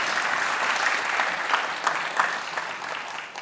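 An audience at a lecture applauds after a speaker's introduction, a dense, even wash of many hands clapping that holds steady and then thins slightly at the end.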